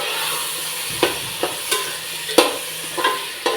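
Chicken and finely chopped tomatoes fry in a pan with a steady sizzle. A spoon scrapes and stirs through it in several distinct strokes.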